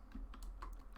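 Quiet close-up typing on a computer keyboard while entering a terminal command on a Raspberry Pi, several light key clicks spread across a brief moment with no talking.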